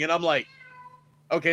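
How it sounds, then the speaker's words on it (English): A house cat meows to be let in, giving one drawn-out, fading meow close by, framed by a person talking just before and after. "That's my cat."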